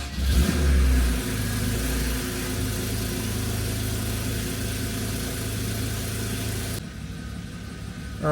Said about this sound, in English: All right, there it is. The car's idling.